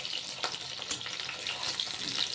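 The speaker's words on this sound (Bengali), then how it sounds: "পটল কিন্তু আমি একেবারে কড়া করে ভাজবো না, একটু হালকা ভেজে নেব।" Pointed gourd (potol) frying lightly in oil gives a soft, continuous sizzle with a few small crackles and stirring clinks, fairly faint and without any talk.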